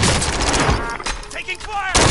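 Gunfire in the video game Call of Duty Warzone, several loud broadband shots packed into about two seconds, some overlapping, with in-game voice lines mixed underneath.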